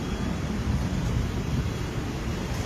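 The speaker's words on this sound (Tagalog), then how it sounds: "May hangin siya, kaya medyo malamig ng konti." Steady wind buffets the microphone, a low rumbling roar with constant hiss, no voices.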